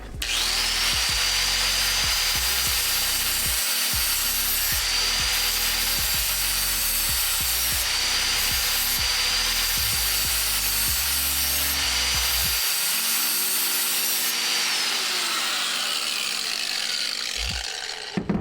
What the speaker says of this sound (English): I believe I have right here a 60 grit flap disc